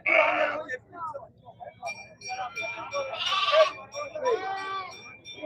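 Goats bleat repeatedly in several wavering calls at a Friday goat market in Ettayapuram, Thoothukudi district, with people talking nearby amid the crowded market bustle.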